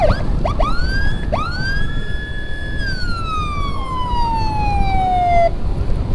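Ambulance siren on a patient transfer run from a health clinic in Rajapolah to a hospital in Ciamis, West Java, wailing loud and close with rising and falling sweeps over continuous road rumble.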